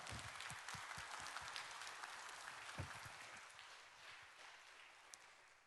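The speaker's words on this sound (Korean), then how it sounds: "박수로 우리 목사님 환영하도록 하겠습니다" A church congregation at a Sunday worship service and heresy-response seminar applauds to welcome a pastor to the pulpit, a faint, steady wash of many hands clapping together, heard from a distance in a large room.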